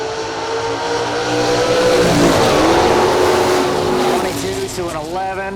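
Drag racing cars, a Pontiac Firebird and a Fox Body Mustang, roar at a strip with engines revving and rising in pitch, loud and continuous, with an announcer talking over the noise.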